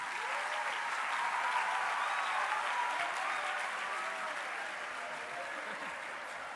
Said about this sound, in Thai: ขอเสียงปรบมือต้อนรับโรงเรียนอสัมชัญ